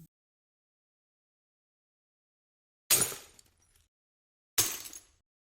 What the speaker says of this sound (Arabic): تحطم زجاجي طبعا.